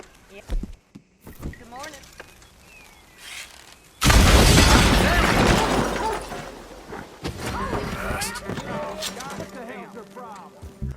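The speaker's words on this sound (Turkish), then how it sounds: "Fenç'in kapısına sırtımızı dayayıp yere patlayan okumuzu nişan alıp okumuzu atıyoruz." An explosive arrow detonates against a shop door in Red Dead Redemption 2, a sudden loud boom that erupts mid-clip and rolls into a long crackling, debris-filled roar, preceded by quieter game ambience and brief talk.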